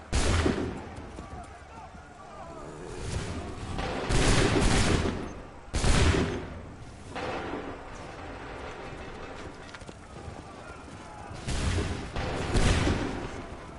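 Musket volleys from massed lines of soldiers in Assassin's Creed 3, several loud booming fusillades spaced a few seconds apart, each rolling out into a long echoing tail, with voices between them.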